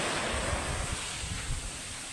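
Sea surf washes onto the beach in a soft, steady rush, with some wind noise buffeting the microphone.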